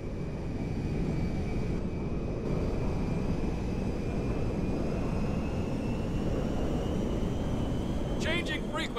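A cargo jet in Grand Theft Auto V roars steadily with a broad, dense engine rumble and a thin high whine that slowly rises in pitch. A brief radio-like chirp comes near the end.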